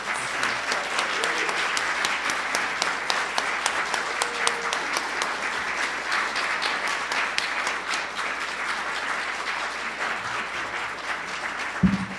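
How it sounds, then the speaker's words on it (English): A congregation at a Unitarian Universalist worship service applauds its panel, a steady, moderately loud wash of clapping that holds evenly for about twelve seconds and ends with a brief thump. "Can we give our panel a round of applause?"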